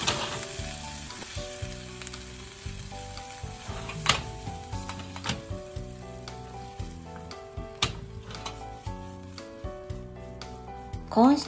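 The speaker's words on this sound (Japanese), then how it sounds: "味がよくなじむよう強火でしっかり煮立たせます" Corn stew with butter and roux, made with Hokkaido ingredients and Japanese dashi, bubbles hard over high heat with a steady close sizzle, scattered utensil clinks and background music throughout.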